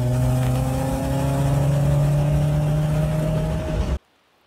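A car engine running steadily while driving with CLR coolant-system flush treatment added, a loud sustained hum with a slight rise in pitch over about four seconds before cutting off abruptly.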